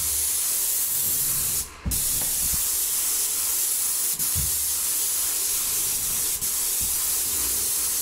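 Paint sprayer misting a ceiling at low pressure, a continuous close hiss broken by a short pause and a few soft knocks and clicks, with no speech.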